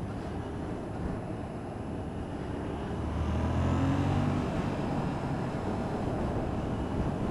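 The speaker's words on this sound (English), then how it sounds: "I'm test riding the FZ7 from Yamaha right now" Yamaha FZ-07 motorcycle on a test ride, a steady engine drone mixed with rushing wind noise that rises slightly in the middle.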